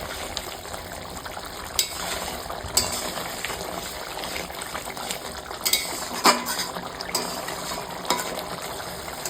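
A spoon works through besan curry with kasuri methi in a pan, making intermittent metallic clinks and scrapes over a soft, steady background hiss, with no one speaking.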